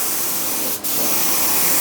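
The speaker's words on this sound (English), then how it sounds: "See how slow you can go with this hvlp? It's a lot easier to spray." A Greco HVLP 9.5 spray gun sprays steadily in a small workshop, a loud continuous close hiss that breaks for a split second near the middle before resuming alone.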